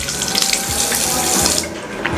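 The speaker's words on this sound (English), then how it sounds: "The water here runs." Water runs from an automated tap into a sink in a guesthouse bathroom in Cuba, a loud, steady close-up rush that ends abruptly.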